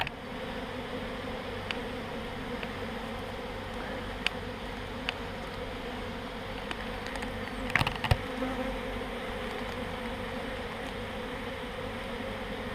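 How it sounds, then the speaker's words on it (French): Honeybees buzz in a steady, dense drone at a hive entrance during swarming, the colony disturbed and circling in large numbers, with a few faint clicks and a brief knock around the middle. "les abeilles elles tournent beaucoup parce qu'elles ont été perturbées là"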